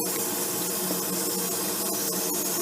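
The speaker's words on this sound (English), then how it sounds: "spray away from them so you're not spraying water into their ear" A handheld sprayer hisses steadily as water is sprayed over a puppy during a bath, a close, continuous spray without pauses or voices.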